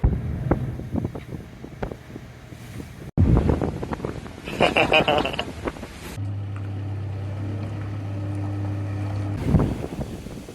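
Island Packet 40 sailboat running under engine, a steady low drone that settles in midway and holds for several seconds, mixed with wind buffeting the microphone and some clunks and handling noise near the start.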